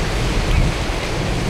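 Ocean waves surging around a film set built out in the sea, a loud, continuous wash of surf with heavy wind rumble on the microphone.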